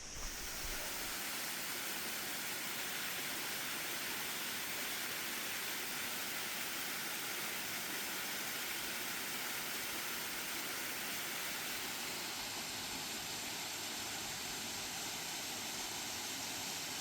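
Steady, loud roar of a waterfall at Bergeron Falls beside a mountain bike trail, a dense unbroken wash of falling water filling the whole stretch with no voices.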